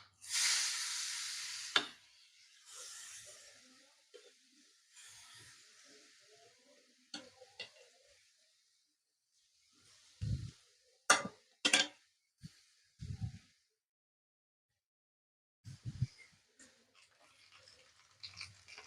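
Grated papaya fries in a pan with a pinch of asafoetida, giving a soft hiss at first, then quiet intermittent scrapes and knocks of stirring, close and faint.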